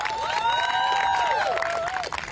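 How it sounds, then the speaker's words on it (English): At a student protest in Washington D.C., a crowd claps and cheers loudly and continuously, with whistles and shouts rising over the applause throughout. "So I would like to give a round of applause for Professor Hampton."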